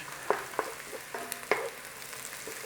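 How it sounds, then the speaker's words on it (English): Onions browning in a pan for a corned beef curry with green chillies, a soft sizzle under several distinct clinks and scrapes of a utensil against the pan, no speech. "Now obviously you can brown up your onions as much as you want."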